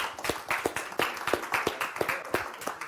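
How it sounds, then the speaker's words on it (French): A small group claps for a trophy winner at a Téléthon Gaming quiz event, with sharp, fairly regular hand claps close by and no voices over them. "Et on peut bien l'applaudir quand même."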